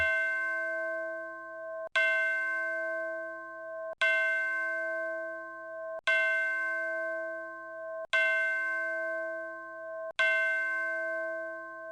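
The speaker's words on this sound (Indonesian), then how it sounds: "Lonceng rekor berbunyi hingga 6 kali berurut-urut" A hall bell in a dungeon academy rings six times in a row, each loud, resonant strike spaced about two seconds apart and left to hum and fade before the next, with nothing else heard.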